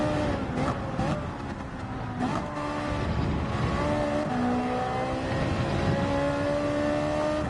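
A Ferrari race car in Gran Turismo 7 revs hard through its gears, the engine note climbing and dropping with each shift in a loud, continuous in-car drone.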